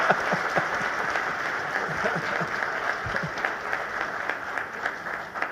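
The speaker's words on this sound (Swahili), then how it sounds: "So let's put our hands together tupige makofi mengi sana." An audience applauding at a hotel launch ceremony attended by the president of Tanzania, dense steady clapping from many hands filling the room, with a faint murmur of voices underneath.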